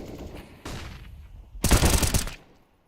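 Gunfire from Counter-Strike on the Dust2 map during a professional ESL Challenger Rotterdam match: a short rapid burst of shots, then a louder sustained volley of automatic fire close up.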